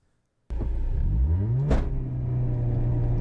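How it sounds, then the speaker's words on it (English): A small, very narrow rallycross car roars up from idle and accelerates hard through a slalom. Its engine note climbs steadily and holds loud and close, with a sharp burst partway through. "Through the slalom in my very narrow, small car."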